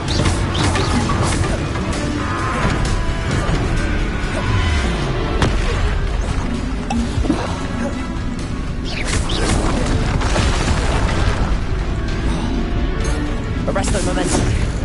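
Spell explosions from the video game Hogwarts Legacy burst again and again in a dense, loud mix of booms, crashes and pops, with sharp impacts scattered through a constant wall of noise.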